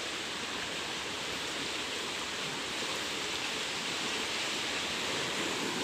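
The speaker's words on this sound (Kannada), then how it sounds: "ನೋಡಿ ನೀರು ಹೆಂಗೆ ಹೋಗ್ತಾ ಇದೆ ನೋಡಿ ಇಲ್ಲಿ" Water rushes steadily along a canal near farm fields at Attahalli village in T. Narasipura taluk, a continuous broadband wash with no change in level and no voices.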